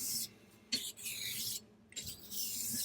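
Straight razor blade being honed on a Morihei 1000 whetstone, a few quiet scraping strokes with brief pauses between them, close and faint.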